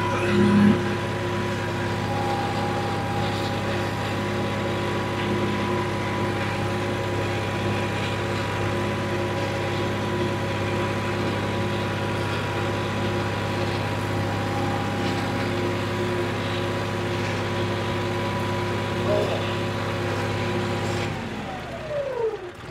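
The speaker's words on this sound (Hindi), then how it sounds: "आरपीएम तोड़ के चल रहा है। हाँ, स्पीड बढ़ गई, इंजन दब गया।" A diesel tractor engine runs hard at high rpm, a loud, steady close drone with a strong tonal hum that holds for about twenty seconds before dropping away at the end.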